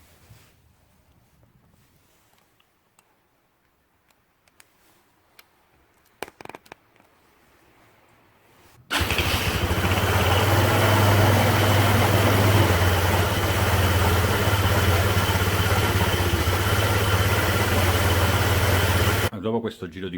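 A scooter fitted with a Malossi Fly clutch starts abruptly after a quiet stretch of faint handling noises, then runs at a loud, steady idle with a deep engine hum, cutting off just before the end.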